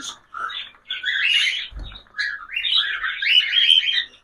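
Cockatiels kept in a breeding setup with nesting pots chirp continuously in bright, shrill overlapping calls, close and fairly loud, with a brief low thump partway through and no talk.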